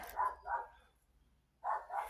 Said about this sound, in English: Dogs are barking, I apologize.